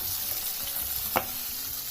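Onion and radish frying together in a pan for a radish chutney, a steady close sizzle with a single sharp scrape of a spoon midway.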